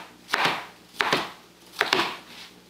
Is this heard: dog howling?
no